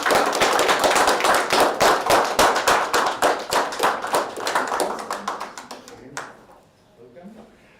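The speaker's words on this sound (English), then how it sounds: "So please applause." Conference audience applauding at a closing ceremony, dense rhythmic clapping that holds steady and then thins out and fades near the end, with a voice briefly audible as it dies down.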